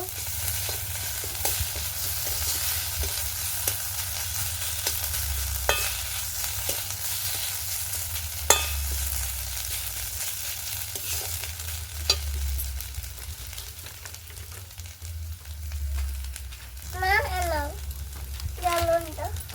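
Ginger-garlic paste and onions fry in a pan for a crab, eggplant and potato curry, with a quiet continuous sizzle and occasional scraping stirs, a voice briefly heard near the end.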